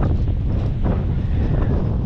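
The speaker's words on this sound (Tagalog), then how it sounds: "Lakas ng hangin." Strong wind buffets the microphone outdoors at a house construction site, producing a loud, continuous low rumble with no pauses.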